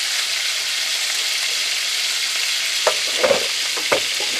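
Pork pieces fry and brown in a pan with a continuous, even sizzle, then several quick utensil knocks and scrapes come through in the last second and a half.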